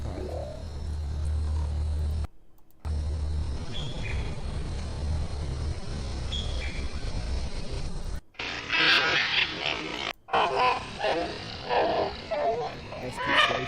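Fox calls play back slowed down, becoming deep, drawn-out groaning cries with a low droning hum. They are broken by brief silences, and sharper, scattered calls follow later.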